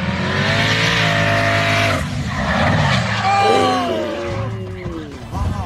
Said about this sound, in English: Twin Turbo Mustang loses control.